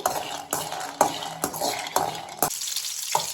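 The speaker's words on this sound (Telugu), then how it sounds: "అమ్మే పల్లీలన్నీ వేయిస్తుంది ఇప్పుడు బాగా బ్రౌనిష్ కలర్ వచ్చేంత వరకు వేయించుకోవాలి" Peanuts frying in a pan for a Kadapa-style peanut chutney, stirred with a utensil in regular scraping strokes about every half second over a soft crackling sizzle, close and with no talking.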